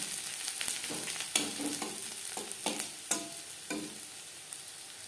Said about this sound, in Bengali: পেঁয়াজ অবশ্যই লালচে করে ভেজে নিতে হবে